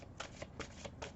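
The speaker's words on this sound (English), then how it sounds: "The way that I read is I am going to shuffle first." A deck of tarot cards is shuffled close up in quick riffling bursts, about four brisk flutters in a row against a quiet background.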